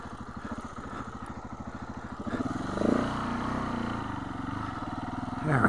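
A KTM 690 single-cylinder motorcycle engine idles close by with a steady, lumpy pulse, then rises slightly in pitch and load after a couple of seconds as the rider works the tall bike.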